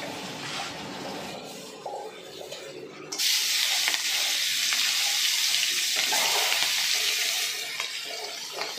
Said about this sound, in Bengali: এবার আমি কাঁকড়াগুলো ভাজা করে নিচ্ছি।